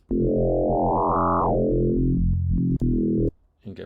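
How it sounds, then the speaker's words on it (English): A sustained synthesized tone from a phase-modulated sine wave in the Phase Plant synthesizer, with a rich buzzy timbre, sweeping upward then falling back in pitch, cutting off abruptly near the end. "now I'm phase modulating that sine wave"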